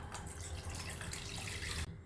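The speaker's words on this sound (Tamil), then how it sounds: "ஒரு 200 ml தண்ணி அதில் ஊற்றுங்க." Roughly 200 ml of water pours into a clean vessel while a hibiscus drink is being made, a faint, steady splashing trickle that stops abruptly just before the end.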